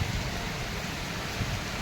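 Steady, even rain hisses throughout, a dense and constant wash of drops with no voices or other clear sounds above it.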